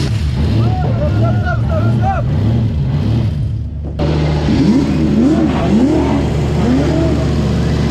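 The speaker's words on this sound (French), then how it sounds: "mets ton gaz, monte dans la bagnole" Race car engine revving repeatedly at a race weekend in Riga, loud and close, rising and falling in pitch with a brief dip mid-way, while people talk nearby.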